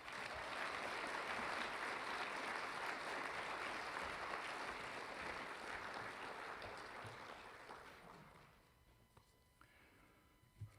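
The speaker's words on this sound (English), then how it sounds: "So please give me, Dr. Lichty, a big round of applause." A large audience at a high school graduation ceremony claps in a dense, sustained round of applause that holds steady, then thins out and fades to scattered claps near the end.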